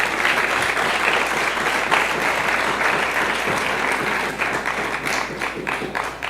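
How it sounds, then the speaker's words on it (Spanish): A church congregation applauds steadily and loudly, a dense wash of clapping from many hands that fills the whole stretch without pause and tapers only slightly near the end. "¿Por qué no le damos un aplauso a Dios por traernos a esta iglesia?"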